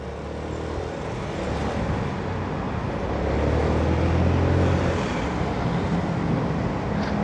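A Honda Forza 300 scooter engine runs and revs, a steady broadband motor roar that swells louder midway, heard up close with wind-like rumble.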